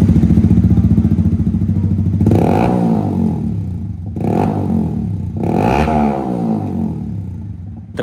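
A Yamaha XSR155 motorcycle with a VMAX Orion full-system exhaust revs loudly up close, with three distinct throttle blips rising out of a steady rumbling idle.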